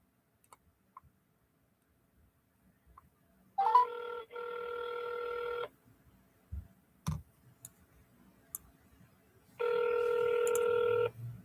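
Outgoing phone call ringback on a real estate wholesaling call: two steady electronic ring tones, each about two seconds long and about six seconds apart, with faint clicks between them and no voices.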